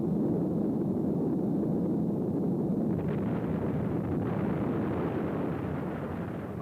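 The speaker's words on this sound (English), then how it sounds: "A rocket launch is little more than a controlled explosion." A rocket launch roars as a steady, dense broadband rumble, loud and unbroken for several seconds, thinning only slightly near the end, with no voices over it.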